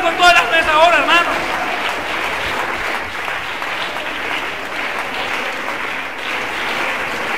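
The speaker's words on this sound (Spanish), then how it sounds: "Dale un aplauso a él con todas las mesas ahora" A church congregation applauds steadily and loudly during an evangelism service, with a voice rising briefly over the clapping at the start.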